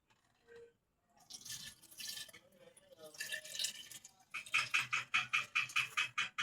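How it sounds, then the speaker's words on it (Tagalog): Water is poured into a pan of cooking tomatoes, splashing and pattering in bursts, then settling into a rhythmic sloshing and bubbling near at hand, with no talk. "Tapos lagyan natin ng tubig."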